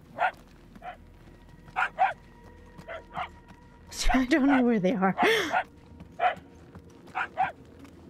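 Puppies bark in the Guardians of the Galaxy video game: pairs of high, short yips repeat at a steady pace, sounding moderately distant. Someone talks briefly in the middle while the barking pauses.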